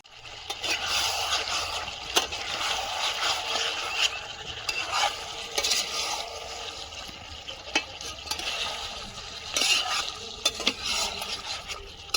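Chicken and potatoes being stir-fried in a kadai, with repeated metal scraping and clinking strokes over a continuous sizzle, close and fairly loud, no talking.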